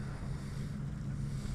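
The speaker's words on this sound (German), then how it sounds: "da fahren ja auch die Speedboats da. Da fährt auch gerade eins vorbei." A steady low engine drone and broad wash of water and wind noise from a speedboat passing on a Norwegian fjord, heard from a packraft on the water, continuous and fairly distant without a clear approach or fade.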